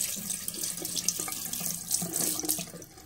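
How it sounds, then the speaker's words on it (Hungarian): A paint-laden brush, used with chalk paint, is rinsed and scrubbed under a running tap, giving a steady close splashing rush of water into a sink, with brief scrubbing bursts throughout. "Egyszerűen folyóvíznél jó alaposan kidörzsöljük belőle a festéket."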